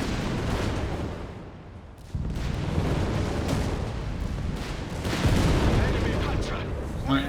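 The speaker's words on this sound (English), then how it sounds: "Grenades off here." Grenade blasts and battle noise in Company of Heroes 3 on the Campbell's Convoy map, with dense rumbling booms that swell in the second half while a commentator talks over them.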